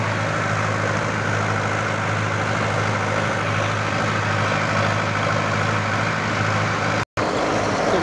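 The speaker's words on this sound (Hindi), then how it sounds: "बहुत ही ज़बरदस्त ट्रैक्टर है सोनालिका सिकंदर" Sonalika Sikander 60 tractor pulling a rotavator through a field, its engine droning continuously with a steady low throb and loud mechanical hum, broken only by one short gap near the end.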